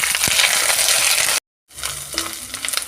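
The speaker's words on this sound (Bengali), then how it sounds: "দিয়ে দেবো বেটে রাখা আদা কাঁচা লঙ্কা চেরা দিয়ে আবার একটু ভাজতে থাকবো" Ginger paste and slit green chillies frying in hot oil for a magur fish curry, a loud, steady sizzle broken by a brief silent cut, then resuming with stirring clinks.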